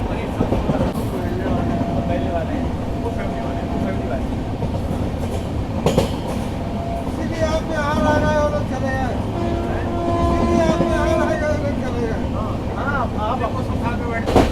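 A train rumbles steadily along the tracks with a rhythmic clatter and occasional squeals, while people talk over the constant noise.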